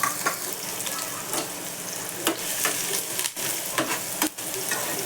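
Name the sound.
onion frying in oil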